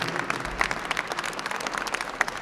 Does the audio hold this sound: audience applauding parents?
yes